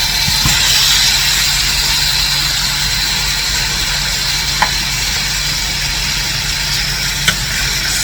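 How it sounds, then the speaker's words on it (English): Sliced steak frying in a pan for pepper steak, a steady loud hiss and sizzle under a low continuous hum, with a couple of faint ticks and no talking. "I can put my steak, the sliced steak in here. Don't want to put too much of the liquid because I want it to fry"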